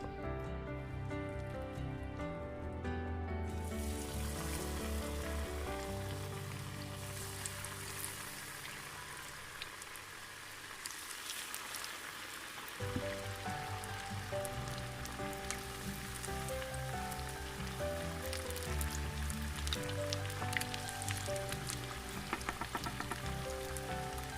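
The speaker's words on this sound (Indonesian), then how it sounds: "Oke, sekarang kita mau goreng" Thick corn fritter batter with ground coriander and pepper fries in hot oil, giving a steady, dense crackling sizzle that continues throughout with tonal music in the background.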